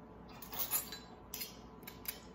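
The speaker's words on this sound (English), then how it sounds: "I'm just going to take my little pastry blender and I'm just going to cut this butter into my rolled oat mixture" A pastry blender cuts butter into a rolled oat crumble mixture in a home kitchen, giving a few faint, close metallic scrapes and clicks against a bowl in short bursts, with no talking.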